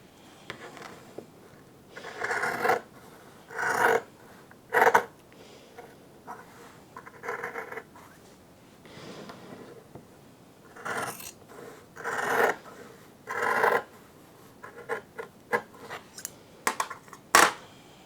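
Scissors cut through fabric for a quilted waistcoat, snipping in short bursts with pauses between, close and fairly quiet, with no talking.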